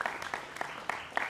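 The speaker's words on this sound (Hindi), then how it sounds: "पत्रकार पंकज शर्मा जी भी जोरदार तालियों से इनका भी स्वागत कीजिए" Brief applause welcoming a journalist guest at a televised debate, a short run of scattered hand claps at moderate distance, fairly faint.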